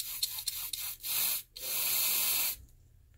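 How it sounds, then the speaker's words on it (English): Canned test smoke sprayed at an automatic smoke detector in a fire alarm setup: a few short hissing puffs, then two longer sustained sprays, close and fairly loud, ending in quiet. "We're going to simulate a fire and spray some smoke at our automatic detector."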